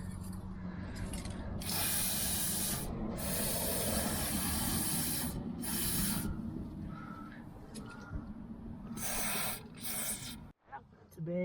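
Aerosol oil sprayed onto suspension bushing parts of a Toyota Celica MK7 during bushing service, heard as several long, close hissing bursts separated by brief pauses, with a low background rumble throughout.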